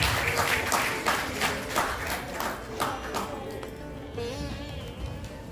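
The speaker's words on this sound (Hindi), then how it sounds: "बहुत सारिया तालियां के नाल" Applause from an audience at a school Children's Day award ceremony, with students called to the stage for a running trophy; a long round of clapping starts loud, then gradually thins and softens, with a voice over it toward the end.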